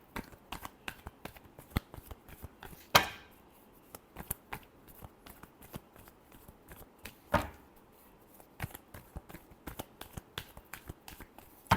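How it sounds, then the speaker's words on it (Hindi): Tarot cards handled and shuffled in sharp, scattered clicks and snaps, with two louder riffles standing out, close and quiet with no voices. "last shuffle"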